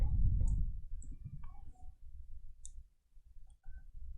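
Computer keyboard keys clicked while entering a spreadsheet formula in Excel, a run of close, quick taps and ticks in an uneven rhythm over low background hum, with no voices.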